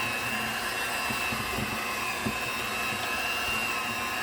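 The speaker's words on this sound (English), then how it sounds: "I'm gonna beat this in a big mixer." A big electric stand mixer beating carrot cake batter, with a steady, loud motor whir and hum running continuously up close.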